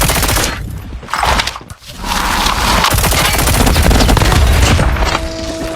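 Loud rapid gunfire bursts in Call of Duty Mobile, dense overlapping shots and blasts filling nearly the whole stretch with only a brief dip in the middle.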